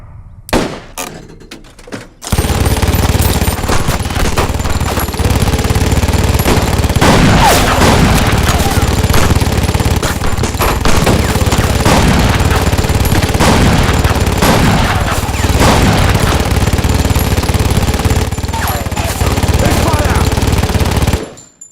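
Sustained automatic gunfire and rapid shots in an action-movie firefight, loud and dense for about twenty seconds after a brief opening moment, with shouted voices partly under the barrage.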